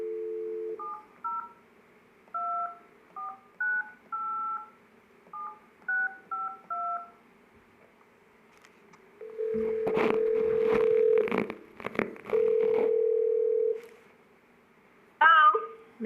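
Telephone touch-tone DTMF dialing for a conference call at a redevelopment agency meeting: a quick series of short beeps, then a long steady tone, crackly line noise and a brief recorded-voice snippet at the end, fairly clear and close.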